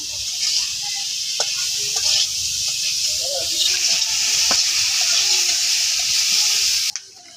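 A spice paste of onion, garlic and green chilli sizzles and hisses steadily in a pan, a loud continuous fry with occasional faint clinks, stopping abruptly near the end.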